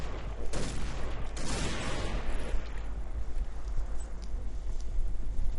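Heavy Barrett sniper rifle fire in the shooting game Point Blank, a dense burst of loud booming reports early on settling into a rumbling, noisy battle background with no talking.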